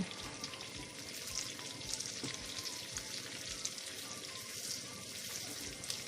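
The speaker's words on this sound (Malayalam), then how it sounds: "നന്നായിട്ടൊന്ന് ഇളക്കി കൊടുത്താൽ മതി" Thick Christmas cake batter with raisins and dried fruit is stirred in a bowl, giving a soft, continuous wet swishing with faint rhythmic low thuds, quiet and steady throughout.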